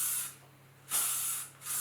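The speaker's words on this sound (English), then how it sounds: "One last blast of hairspray." Two long bursts of hairspray from an aerosol can, sprayed close up onto long curled hair, each a steady bright hiss with a short pause between, loud and alone with no talking.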